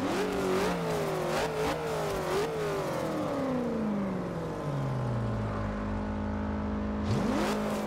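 A 1966 Ford GT40 Mk II engine in Forza Horizon 2 revs in several quick blips, then winds down to a low idle rumble before one sharp rev rises again at the end.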